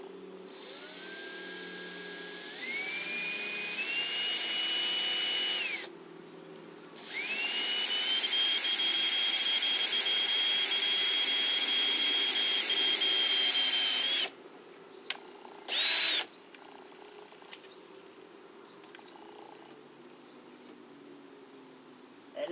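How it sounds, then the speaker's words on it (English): Power drill boring holes in a beat-up metal RV screen door taken off a Winnebago, with a loud sustained whine rising in pitch in steps, stopping briefly, then running long again before a few short bursts and quieter handling noise. "drill a couple holes here"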